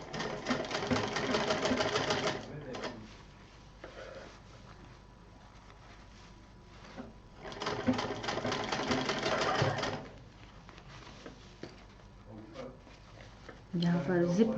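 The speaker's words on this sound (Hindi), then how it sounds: "जहाँ पर जिप है वहाँ ज़रा आराम से सिलिए, क्योंकि उस पर मशीन चढ़ जाएगी तो जिप खराब हो सकती है" A sewing machine stitches a pouch with a zipper in two fast, rattling bursts of a few seconds each and a short run at the end, with quieter gaps between where someone talks.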